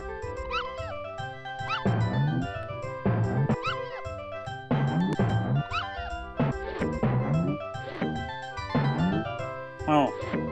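Puppy yelps and barks from the SNES game Earthworm Jim 2 repeat in steady bursts over bouncy synthesized game music, loud and continuous throughout.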